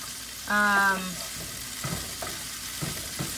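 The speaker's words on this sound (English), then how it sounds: "When we do fried cabbage, we like it to get a little crispy" Shredded cabbage frying in a pan, a steady soft sizzle with a few scraping stirs, and a brief tonal beep near the start over the cooking noise.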